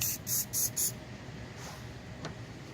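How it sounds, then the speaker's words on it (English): Meguiar's Ultimate Fast Finish aerosol paint sealant sprayed onto a car hood gives four short, close hissing bursts in quick succession, then fades to quiet room tone. "Okay, so I'm just gonna do a couple of sprays."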